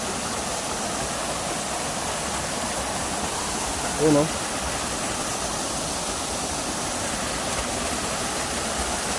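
Water rushes steadily at a high waterfall beside natural pools, a broad constant roar filling the whole clip, with a short spoken remark heard briefly over it.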